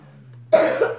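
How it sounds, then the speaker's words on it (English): A single sharp cough bursts out abruptly after a moment of quiet hum, close and fairly loud, with a short trailing rasp. "Sorry about the coughing."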